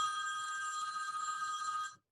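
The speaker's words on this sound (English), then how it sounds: "Sorry, that's my phone." A mobile phone rings with a steady bright electronic tone that holds for about two seconds, then cuts off abruptly, moderately faint and alone.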